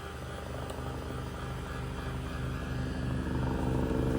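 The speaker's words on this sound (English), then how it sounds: "Oh, I have a helicopter flying over us." A rescue helicopter passes low overhead near a hospital, its steady rotor rumble and rhythmic blade throb holding loud and close, building slightly throughout with no voices over it.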